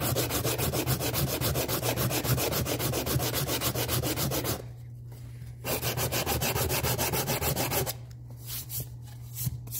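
An aluminum trim piece from a classic Impala lowrider is sanded by hand in long, steady back-and-forth strokes, rough and loud, with two short pauses between runs.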